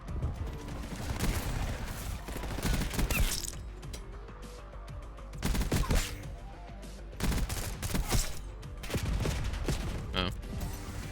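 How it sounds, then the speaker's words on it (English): Gunfire from the modded Stryder .22 in Black Ops 6, with several bursts of sharp shots separated by pauses and mechanical clicks, plus a loud crack near the end, heard in close, gritty game audio. "Two shots."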